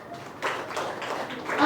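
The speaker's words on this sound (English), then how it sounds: "Clap your hands" Audience of grade 6 pupils at a school debate clapping together, a dense wash of applause swelling after a brief quieter start and continuing steadily, with a voice talking over it.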